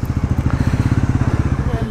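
A 2024 Bajaj Pulsar NS400Z motorcycle carrying a pillion rider pulls away on city streets, its engine giving a steady, close, evenly pulsing low thump for the whole stretch.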